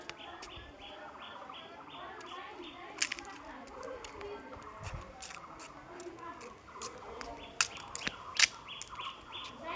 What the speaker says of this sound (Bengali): মুরগির বাচ্চাগুলো দেখাচ্ছি একটু